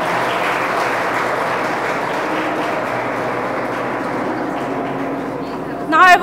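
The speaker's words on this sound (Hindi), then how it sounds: "तालियां बजती रहनी चाहिए।" Sustained audience applause at an institute ceremony, a steady dense clapping that continues evenly before a voice cuts in briefly at the end.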